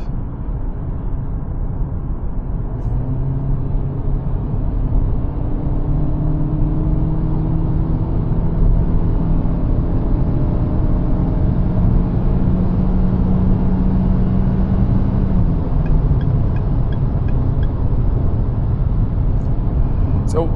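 A 2025 Forthing T5 EVO Sport with a 177 hp engine and seven-speed dual-clutch gearbox, driven at night in sport mode, accelerates hard from lower speed with a steady, loud engine drone and rising tones as it shifts, with no talking.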